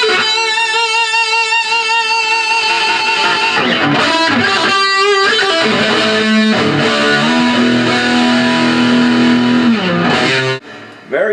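Electric guitar played through a Fender Super Champ XD modeling amp on a heavily distorted preset, loud sustained chords and bends with a thick, saturated tone, ending in a brief cutoff.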